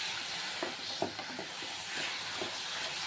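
Fried paneer pieces sizzling in a spice mixture in a pan while being cooked for doi paneer, a steady broad hiss with faint scraping clicks, moderately loud and with no talk.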